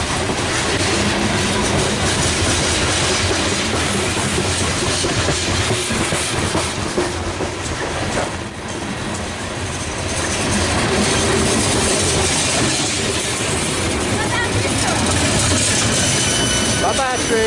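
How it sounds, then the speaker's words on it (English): A train rolls past on rails for the whole stretch, a loud broadband rumble with clattering wheels and brief squeals, dipping slightly midway before swelling again. "Bye-bye, train."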